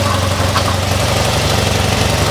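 A V4 engine idling on choke, a steady, loud, close mechanical rumble with an even low pulsing beat throughout and no talking.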